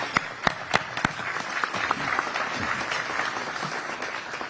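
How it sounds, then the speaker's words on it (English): An audience at an Alabama Attorney General Republican debate applauds, opening with a few sharp, distinct claps and then settling into a steady patter of clapping that continues throughout. "Give them a round of applause for being here."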